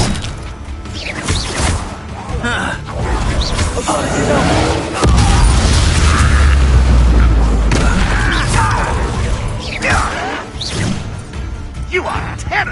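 Fire spell explosions in Hogwarts Legacy, a heavy booming blast with a deep low rumble mid-clip, surrounded by crashing impacts and whooshes in a busy combat mix with a voice speaking over it.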